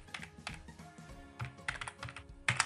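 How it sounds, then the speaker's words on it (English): Computer keyboard keys clatter in a quick, uneven run of close taps while an address is typed, with a couple of louder strokes near the end. "Just type the address in here."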